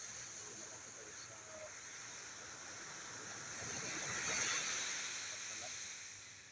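Waves breaking along a village seashore near moored boats, a continuous hiss of surf that builds to a louder surge midway, with faint talk underneath.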